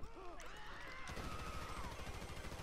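Rapid gunfire from a sniper rifle and submachine gun in GTA 5 on the Los Santos map, dense bursts of shots that fill the whole stretch after a brief opening.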